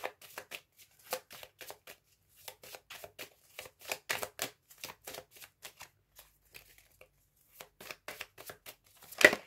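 Tarot cards being shuffled and drawn, a run of soft, papery riffles and flicks in irregular bursts, close and fairly quiet, with a brief sharper snap near the end.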